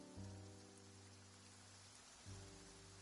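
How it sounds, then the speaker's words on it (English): Rain falling in Genshin Impact, a faint, steady patter of drops under a low sustained musical drone that swells again near the end, with no voices. "It's raining."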